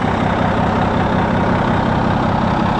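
A machine's engine idles steadily after cranking over, a loud, constant low rumble with an even rhythmic throb from start to finish, no talking.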